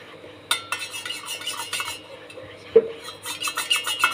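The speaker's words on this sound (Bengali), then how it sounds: "একটু পানি নিবে আর কফি নিবে, নিয়ে মিশাতে শুরু করবে" A spoon stirring coffee with a little water in a cup, quick rhythmic scraping and clinking bursts close up, with a louder tap partway through.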